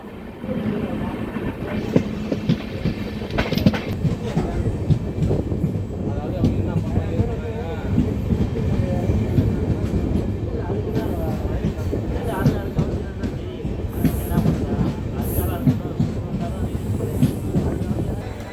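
Passenger train on the Mayiladuthurai to Karaikudi line running steadily with continuous rail rumble, wheel clatter and occasional squeals, loud and close throughout, with some voices in the background.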